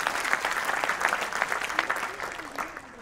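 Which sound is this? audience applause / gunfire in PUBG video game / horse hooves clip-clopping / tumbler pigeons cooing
audience applause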